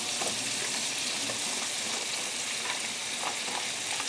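Shallots and mushrooms frying in a pan, a steady close sizzle with faint crackles running throughout, no voices.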